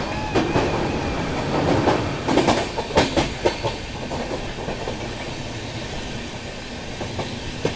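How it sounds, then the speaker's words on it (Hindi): A Shatabdi Express train leaving Chennai rolls on the rails, heard from inside the coach as a steady loud rumble with rhythmic clickety-clack joint beats and some hiss, and no voices. "ट्रेन जैसे अभी देखो चेन्नई से निकली है, और बिल्कुल 1:30 पे चलना शुरू हो चुका"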